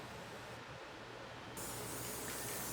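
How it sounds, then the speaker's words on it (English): Craft adhesive spray hisses from an aerosol can onto a large sheet of newsprint, a steady broadband spray that grows louder and stronger partway through, heard alone with no talking. "I took a large piece of newsprint and I sprayed it with craft adhesive spray"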